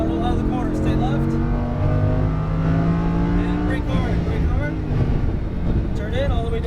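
Lamborghini Huracán race car powering out of a corner on a track, engine note rising steadily and loud with gear changes, a voice talking over it throughout.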